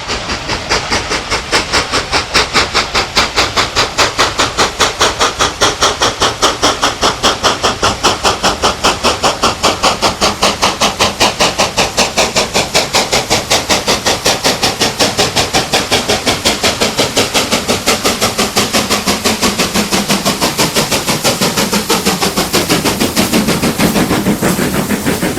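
British steam locomotive 62005 hauls the Jacobite train through Beesdale in summer, its exhaust beating in a fast, steady rapid-fire chuff that stays loud and close for the whole run, with rail and running noise beneath.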